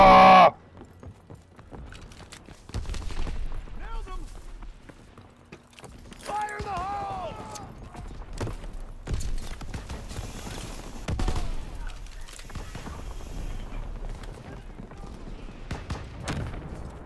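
Sniper rifles crack in the Call of Duty: WWII video game, with sharp, irregular single shots spread across the stretch over a busy battle bed, while players' voices talk and shout.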